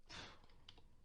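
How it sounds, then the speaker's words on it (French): Quiet keyboard typing: a short burst of key clicks followed by a few scattered, isolated taps, close by with no voices. "Excusez-moi si vous entendez le bruit des touches, hein, c'est un clavier."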